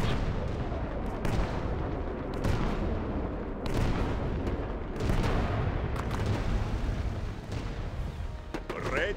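Tank cannon fire in the real-time strategy game WWW RTS, heavy booming blasts rolling through a dense battle din, with several louder hits standing out from continuous rumbling combat noise.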